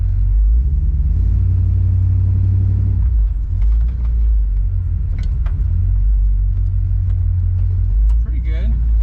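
A 1969 Plymouth Fury III with a newly replaced brake system rumbles along inside the cabin, its engine droning low and loud, then easing as the car slows. A voice talks over it.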